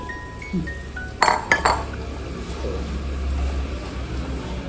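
Fried chicken for Korean fried chicken going into sauce in a pan: a quick cluster of metallic clinks and clatter from utensils against the pan, over a low steady kitchen hum.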